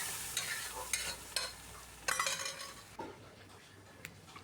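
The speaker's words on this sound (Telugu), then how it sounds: "పప్పు కూడా వేసేసుకుంటున్నాను" Cooked dal is stirred into a sizzling tempering in a pan, with a spoon scraping and clinking against the metal in uneven strokes over a steady frying hiss, close up and with no talking.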